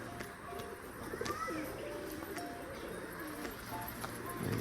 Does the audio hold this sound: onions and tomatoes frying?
no